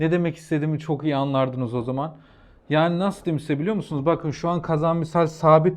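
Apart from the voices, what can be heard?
No distinct noise like a dog, phone or traffic.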